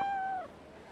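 A cat in the Like a Dragon Ishin video game gives a single clear, drawn-out meow, loud at first, then falling in pitch and trailing off into quiet game ambience.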